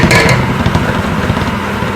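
A handheld electric mixer whirs steadily while mixing spicy chicken pasta in a handi pot, its motor buzz loud and continuous with some rattling as the pot shifts around.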